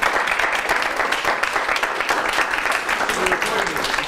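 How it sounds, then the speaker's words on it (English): An audience at a talk on social media for entrepreneurs claps in a dense, steady burst of applause lasting a few seconds, with voices speaking over it. "I don't really want to get the clapping when I say I'm done"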